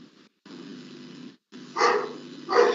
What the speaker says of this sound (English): I don't know from whose side are the dogs barking.